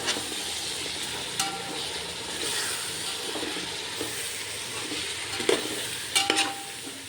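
Chicken for a biryani frying in a pan gives off a steady broadband sizzle and hiss, broken by a few short clinks of a spoon stirring near the end. No one speaks.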